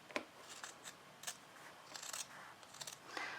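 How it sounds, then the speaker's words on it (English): Scissors snipping through fabric along a marked line on a makeup bag, a series of quiet, close crisp cuts in irregular rhythm, alone. "I'm gonna get scissors and I'm gonna go ahead and cut it on that line"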